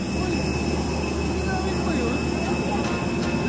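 Inside an airplane cabin, a steady broadband engine roar and air rush sit under a thin constant whine, with faint speech mixed in.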